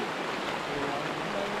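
Spring water flowing from under a rock at the foot of a mountain, a soft steady gurgling rush, faint and continuous throughout with no voices.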